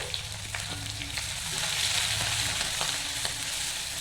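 Dried chillies, curry leaves, chopped green chillies and ginger fry in hot oil for a curd curry, giving a steady close sizzle with a few soft stirring scrapes throughout.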